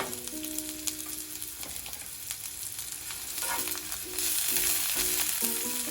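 Shallots frying in avocado oil in a pan, a steady crackling sizzle that grows louder partway through, with occasional stirring scrapes and faint tonal background music.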